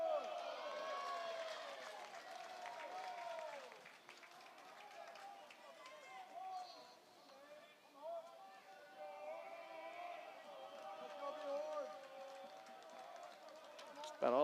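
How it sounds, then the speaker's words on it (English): Chatter and shouts from the Milwaukee dugout along the third base line at a UCF vs Milwaukee college baseball game, a steady murmur of voices with occasional louder calls rising and falling over the ballpark ambience. "About all that noise you're hearing is coming from that third base Milwaukee dugout"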